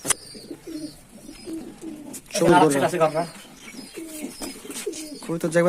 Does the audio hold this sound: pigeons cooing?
yes